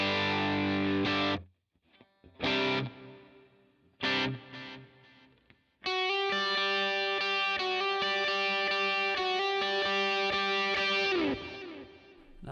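An electric guitar played through a Line 6 Pod Go with a delay effect and drive gives distorted strummed chords that cut off and then ring out into a long sustained chord with repeating echoes, loud and alone.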